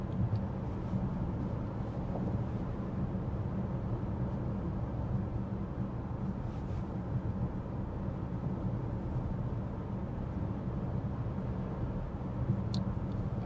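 Inside a 2024 BMW X5 cruising at 55 mph, a steady, muted low rumble of road and wind noise fills the cabin, even and unbroken, with no talking.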